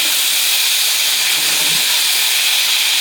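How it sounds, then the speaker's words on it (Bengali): Potatoes fry in hot oil in a cooking pot, giving off a loud, steady, unbroken hiss that never lets up, with no talking. "এখন এই আলুটা ভাজে নেবো"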